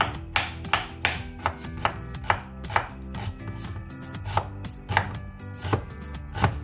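Onions chopped with a knife on a board make sharp, close knocks at a quick, fairly regular pace, roughly a dozen strikes with no talking.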